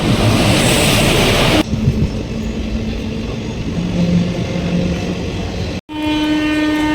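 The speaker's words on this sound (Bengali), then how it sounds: "এই দেখুন সামনে আমাদের ট্রেন" A passenger train bound for Sealdah, heard near Durgapur station, rumbles loudly and steadily, then the noise cuts to a quieter carriage hum broken by a brief dropout and sustained tonal horn-like whines near the end.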